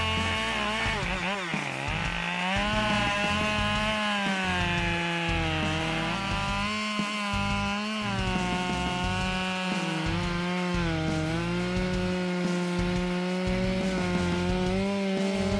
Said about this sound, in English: This chainsaw has impressive cutting power, handling dry wood with ease and exceptional speed.